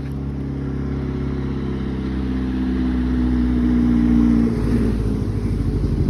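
Cars moving along a village road in Byurakan, Armenia, a steady nearby engine drone that builds slightly, then a vehicle passing close before fading, with no talking.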